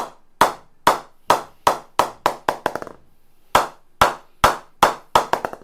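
A hammer strikes a cricket bat with sharp wooden taps in quick series, pausing briefly before another run of rapid, ringing knocks.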